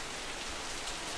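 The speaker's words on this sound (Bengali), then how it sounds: "এই দেখো বৃষ্টি পড়ছে।" Rain falls steadily, a dense, even hiss of drops on surfaces that holds at a constant level throughout the short stretch.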